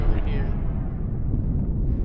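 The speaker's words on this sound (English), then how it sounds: "I see another explosion in that area." An explosion rumbles in a video game asteroid field, a heavy, dense low roar that stays loud and sustained for the full two seconds, with a brief brighter crackle near the start.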